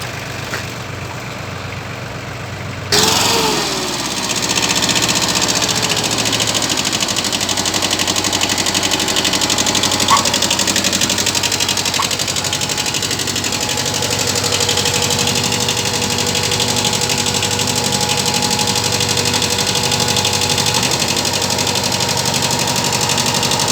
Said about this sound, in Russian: запустим трактор, покажем вам в работе.